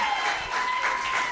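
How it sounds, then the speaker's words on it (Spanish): An audience bursts into brief applause at the end of a live Spanish-language show, a short loud wash of clapping with a steady tone running underneath. "¡Un aplauso, muchacho!"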